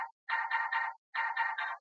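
Gated, morphed synth layer in color bass music, chopped into six short tonal bursts in two groups of three with brief silences between, bright and buzzy, alone without any voice.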